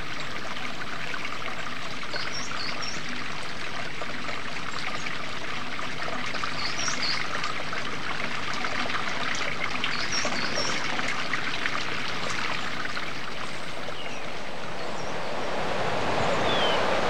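Small mountain streams trickle and flow toward the Senia river in the Tinença de Benifassà, a continuous close babble of running water with faint bird chirps scattered above it.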